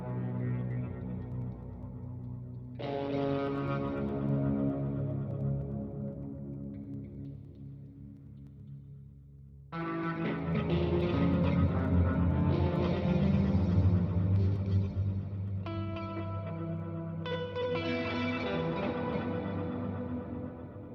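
A synth preset in Bitwig played with layered delay and reverb effects gives sustained, harmonically rich chords that swell and echo, with a new brighter chord entering partway through; no voices are heard.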